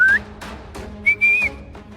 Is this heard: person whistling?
yes